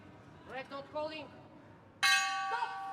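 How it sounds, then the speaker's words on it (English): Boxing bell at a youth world championship bout in Kielce rings once sharply near the end, sustained and ringing, after a commentator's faint speech. "And there goes the bell."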